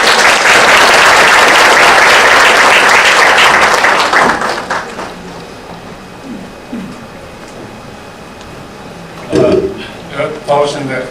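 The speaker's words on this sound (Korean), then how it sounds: "많은 박수 부탁드리겠습니다." A lecture audience bursts into loud, dense applause that holds for several seconds and then thins out and fades, followed by scattered movement and a few voices at a talk held by UNIST.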